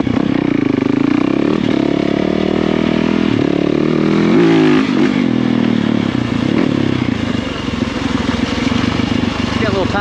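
A Yamaha YZ dirt bike engine revs and bogs loudly up close while riding a tight trail, rising and falling in pitch through gear changes, with a rider's voice under it.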